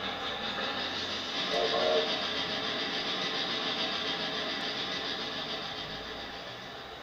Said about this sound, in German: Spyro, das ist ein Zug.